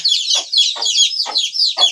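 A steady chorus of native (nati) chickens clucking close by on a small farm, loud and busy, with repeated short calls every half second or so over the constant flock chatter.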